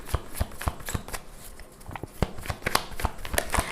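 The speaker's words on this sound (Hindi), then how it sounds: "One last shuffle." Tarot cards shuffled by hand in quick, uneven bursts of crisp riffling and slapping, close and fairly loud, with a brief softer pause midway.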